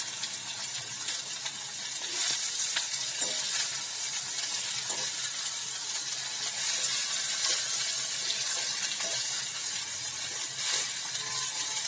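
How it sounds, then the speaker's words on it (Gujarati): Cabbage and potatoes fry slowly in oil over very low heat with no water added, giving a steady, even sizzle heard up close with no talking. "ધીમા એકદમ ધીમા તાપથી તેને તેલની અંદર સડવા દેવાનું છે મિત્રો."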